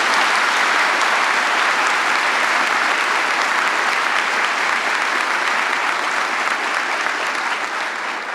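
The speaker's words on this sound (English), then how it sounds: "Why don't you give them another round of applause for all they do?" Sustained applause from a large audience at an NYPD swearing-in ceremony, dense steady clapping throughout that tapers slightly at the end.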